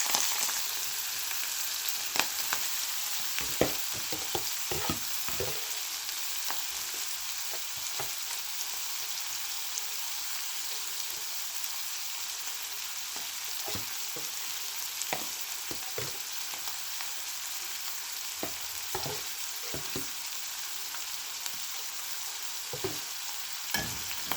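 Omena fish deep frying in very hot oil in a Kenyan village kitchen, a quiet, continuous hiss of sizzling broken by scattered sharp crackles and the occasional clack of stirring.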